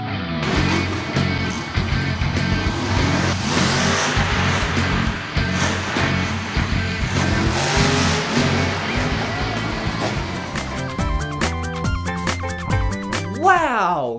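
Monster trucks drive and rev their big, loud engines, a continuous heavy roar with surging revs and rumbling throughout, close and loud, with engine pitch climbing sharply near the end.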